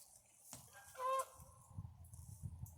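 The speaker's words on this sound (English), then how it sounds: "some geese are flying back" Geese honk faintly overhead outdoors, a couple of brief nasal calls set against quiet background noise.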